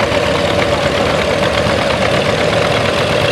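Close and loud, the engine of a 1962 Farmall 460 tractor carrying a 311 plow runs at an even, unbroken rumble with a steady whine at a plow day event, no voices over it.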